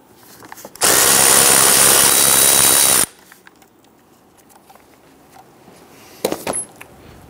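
A power tool runs in one loud, steady burst of about two seconds while loosening 8 mm bolts on a 2011-2019 Ford Explorer lower air box, followed by faint clinks and a short metallic rattle.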